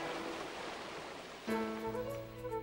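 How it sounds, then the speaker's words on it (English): Running water from a stream in a natural setting flows past as a steady, fairly loud rushing hiss, which gives way halfway through to soft music. "And I love the sound of a stream as it goes by."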